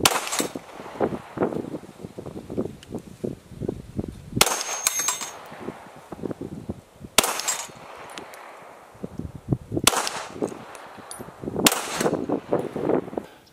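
Five sharp gunshots from a ported Glock 17 handgun firing +P ammunition, evenly spaced several seconds apart, each a loud crack over an outdoor background of rustling and faint clatter, with no talk.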